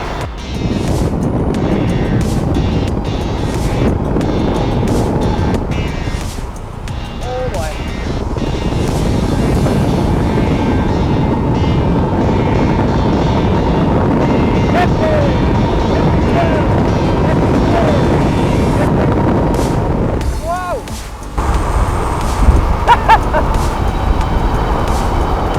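Eahora Romeo PRO 2 e-bike ridden fast downhill, dominated by loud continuous wind rush buffeting the microphone with a brief lull partway through, no voices audible.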